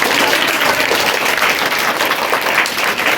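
Loud, dense applause from a school crowd at a Teachers' Day celebration, clapping for the chairman, sustained and steady with no break from start to finish.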